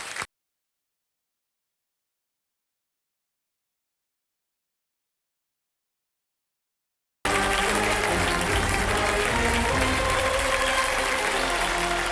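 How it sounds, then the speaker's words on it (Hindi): Studio audience applause on the Indian quiz show KBC, a dense, sustained burst of clapping that starts suddenly after a long stretch of silence and continues steadily to the end. "तालियों के साथ इनका स्वागत किया जाए"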